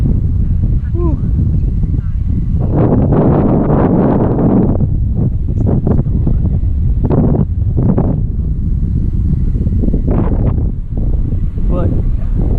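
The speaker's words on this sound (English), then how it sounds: "as soon as I come out here comes the wind" Strong wind buffets the microphone beside a farmer's field, a loud continuous low roar with gusts that swell and ease, while someone talks intermittently over it.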